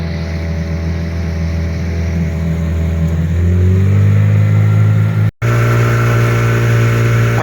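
An outboard motorboat engine drones loudly and steadily on a river near the Sinsk Pillars, rising in pitch as it speeds up, with a brief cut-out before it resumes.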